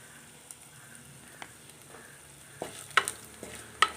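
Chilli and coriander powders toast in a pan for a tuna curry under a low, steady sizzle, with occasional sharp spoon clicks and scrapes that grow more frequent toward the end, close by and without voices.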